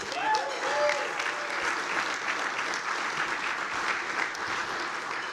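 Applause and cheering from the crowd at the NUCEAO annual alumni dinner: dense, steady clapping that holds for about five seconds, with a few bright whoops near the start.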